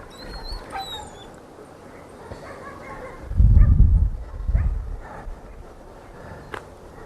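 A dog during an obedience training session gives brief whimpers and soft yips, with a louder thumping burst midway and quiet handling noises around it.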